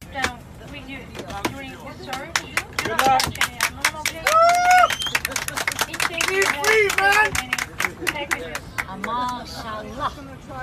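Passengers on a flight break into applause, a dense run of sharp claps with cheering and chatter from the crowd mixed in, loud and close, lasting throughout.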